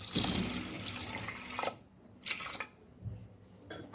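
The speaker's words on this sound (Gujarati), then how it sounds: "તો કુકરમાં આપણે પાણી એડ કરી દઈશું." Water is poured into a pressure cooker holding dal for boiling, a close splashing stream that runs in short bursts with pauses between them.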